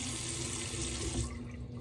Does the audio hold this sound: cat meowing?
no